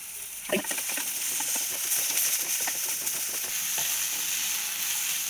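Onions and tomatoes sauté in a hot pan with a continuous bright sizzle and hiss, broken by occasional stirring scrapes and pops, with no talking.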